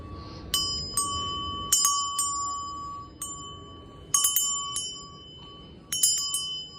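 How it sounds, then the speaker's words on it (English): A small hand bell rings to close a ritual, struck about a dozen times in bright, clear strokes that come singly and in quick pairs, each ring left to fade in a quiet room. "ring the bell again."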